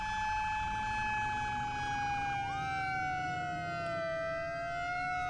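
A loud fire truck Q siren wails steadily with a sustained high tone that bends downward partway through, filling the whole stretch with no voices.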